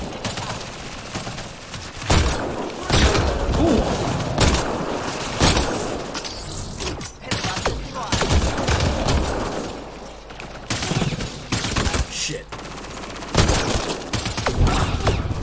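Rapid bursts of automatic gunfire in the sci-fi shooter Mass Effect Andromeda, loud and sustained volleys with sharp shots and booms, overlapping throughout.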